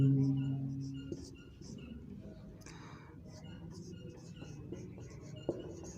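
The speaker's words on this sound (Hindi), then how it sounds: "चौथा कारण लिखेंगे" Handwriting with a pen on paper or a board, faint scratchy strokes and taps under a quiet voice speaking.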